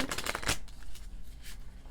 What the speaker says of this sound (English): While I'm shuffling